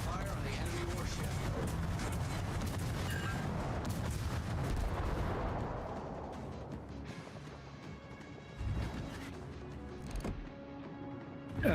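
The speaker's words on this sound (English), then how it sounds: "Concentrate fire on the enemy warship." Naval artillery salvos from World of Warships gameplay roar as dense, rumbling booms for the first half, then fade into quieter battle ambience with a couple of later thuds, while a player talks over it.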